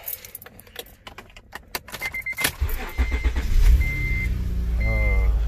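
A Tao Tao ride-on toy car switching on: keys jangle and a few clicks, then a steady motor hum rises with repeated short electronic beeps, close and fairly loud, with no talking.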